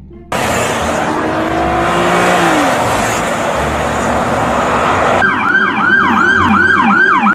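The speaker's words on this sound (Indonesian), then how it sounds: "yang terakhir ada mobil Fortune polisi" A toy police car modeled on a Fortuner sounds a loud electronic siren, first a steady wailing tone and then, after about five seconds, a faster rising-and-falling yelp that repeats close and alone to the end.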